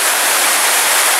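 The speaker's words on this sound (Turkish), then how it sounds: "İşte muhteşem Çaylak Şelalesi." Çaylak waterfall rushing, a loud, dense, unbroken roar of falling water heard close by, with no talking.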